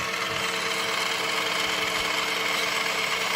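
A small smoke generator unit running inside an RC Tiger tank transporter model, giving a steady, close mechanical buzzing hum with a faint whirring rattle that holds at an even level throughout.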